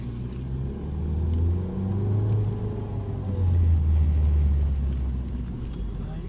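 A repaired car engine idles and revs with a low, steady rumble that swells gently a couple of times, heard close with a faint background hiss.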